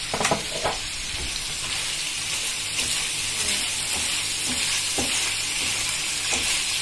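Chicken gizzards simmer and sizzle in a pan with tomato sauce and turmeric, stirred steadily; a continuous close frying hiss runs throughout, broken by a few sharper spoon scrapes and clicks.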